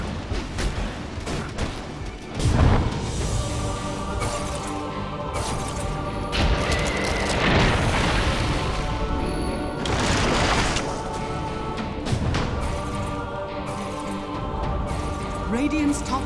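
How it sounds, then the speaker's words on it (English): Towers attacked and destroyed in a Dota 2 match, with busy bursts of impacts, spell effects and crashing hits under an announcer's voice and player talk. "Radiant's top tower is under attack."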